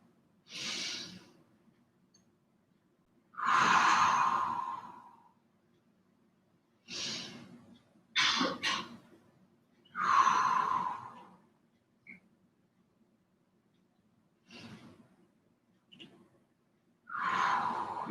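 Slow, airy breaths in and out during a mind-body breathing class, a series of soft exhalations spaced several seconds apart with quiet pauses between them, close and fairly gentle, with no talking.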